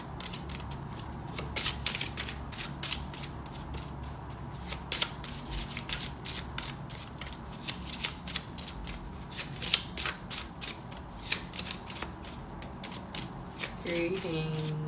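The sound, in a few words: shuffling tarot cards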